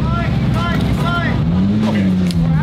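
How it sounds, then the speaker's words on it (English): Many cars idle and rev outside at a car show, a loud, continuous engine rumble with a rising and falling tone close by, while people talk over it. "All I hear is cars right now."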